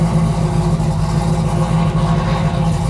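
A 1969 Plymouth Barracuda's engine runs steadily at a low, even idle, a close and continuous rumble with no voices over it.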